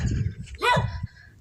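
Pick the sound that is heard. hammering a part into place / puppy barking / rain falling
puppy barking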